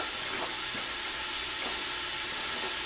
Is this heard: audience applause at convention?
no